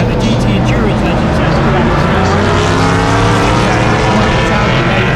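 GT endurance race cars roar around the Silverstone circuit at a festival, a loud, dense, continuous engine roar close by that fills the whole stretch without a break.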